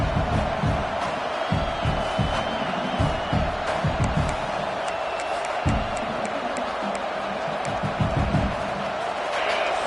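A stadium crowd roars in a Michigan versus Nebraska college football video game, a constant wash of cheering with scattered whoops and thuds over a low rumble.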